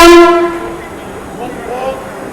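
An intercity superfast express train pulls out of an Indian station with a loud, sustained horn blast at the start, then a softer rolling rumble of the departing train with faint voices in the background.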